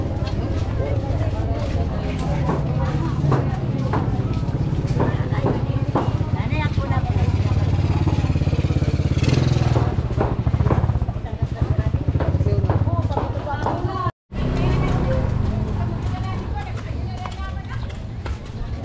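A motorcycle engine hums and drones steadily close by, its low rumble continuing beneath people talking throughout.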